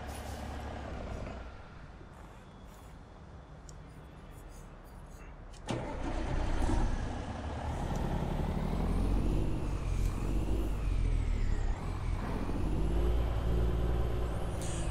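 A big long-hood truck in American Truck Simulator idles quietly, then its engine roars up and keeps droning as it pulls away, with a hiss of air brakes and rising and falling revs. No one speaks.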